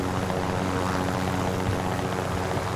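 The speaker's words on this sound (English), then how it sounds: "You can put the chopper right there" A helicopter in the Call of Duty: Modern Warfare game gives off a steady, close rotor and engine drone that holds constant for the whole short stretch, with no voices over it.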